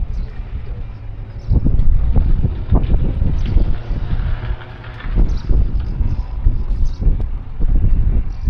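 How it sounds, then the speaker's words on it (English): Strong wind buffeting the microphone outdoors beside the Château de Chambord, loud low rumbling gusts that swell and ease over several seconds. "Bit breezy around this side"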